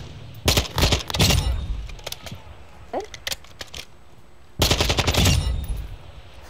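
Automatic gunfire in Call of Duty: Modern Warfare II DMZ, loud close rapid bursts in two main volleys with scattered single shots between, while players talk over the action.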